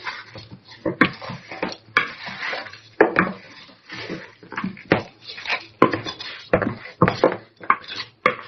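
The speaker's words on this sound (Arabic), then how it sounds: "ابدا اقلب كويس جدا كل الخليط مع بعضه" Potato mixture with starch and oil being stirred in a bowl by hand, giving repeated scraping and clinking strokes of a utensil against the bowl in an uneven rhythm, close and moderately loud, with no talking.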